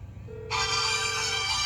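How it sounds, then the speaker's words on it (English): Telegram app call ringback tone heard on a phone, a single steady electronic tone starting shortly after a quiet lead-in and holding for about a second, then giving way to a bright, loud burst of broadband noise. "so you see it's ringing on the other end"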